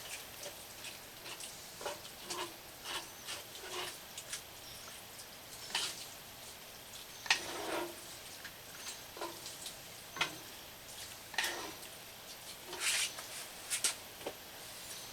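Cajun chicken being stirred in a pan for Sunday dinner, with scattered soft scraping ticks and light clicks over a steady low sizzle, fairly quiet and close, with no talking.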